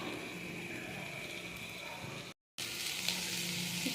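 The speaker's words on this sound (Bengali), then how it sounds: "আমাদের সাদা জিরে একটু দিয়ে দিলাম" White cumin seeds crackle and sizzle steadily in hot oil in a pan, a close, even frying hiss that breaks off for a moment before resuming.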